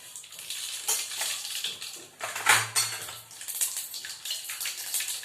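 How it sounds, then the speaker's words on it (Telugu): Mustard seeds go into hot oil in a pan, giving a steady crackling fry with a burst of popping and spluttering midway, alongside metallic clinks of utensils against the pan. "ఆవాలు వేస్తున్నాను."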